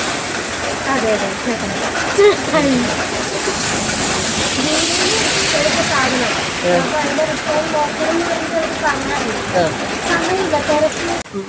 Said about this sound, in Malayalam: കാരണം നല്ല മഴയാണ്